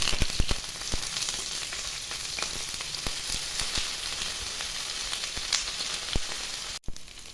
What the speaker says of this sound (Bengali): রোলগুলো সব বানানো হয়ে গেছে, এখন এটা ভেজে নেব।